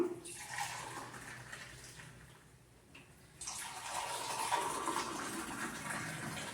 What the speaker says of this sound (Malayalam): നമുക്ക് ചായ കപ്പിലേക്ക് ഒഴിക്കാം